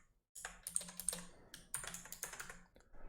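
Typing on a computer keyboard while entering Zapier login details into the Keeper password manager; quick bursts of close, crisp keystrokes in two runs separated by a short pause, with no voice.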